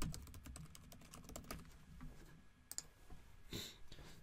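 Quiet typing on a computer keyboard, a run of quick light key clicks with a few sharper taps and short pauses, close and alone.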